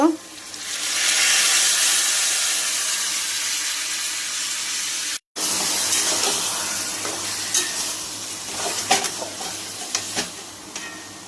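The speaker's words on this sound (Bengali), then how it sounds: "ভেজে নেব হালকা করে। পেস্টটা আমি দিয়ে দেব।" A spice paste fries in a pan for a taro-leaf bhorta, with a loud, bright, continuous sizzle that cuts out briefly midway. Scraping stirs and clinks follow, close to the pan.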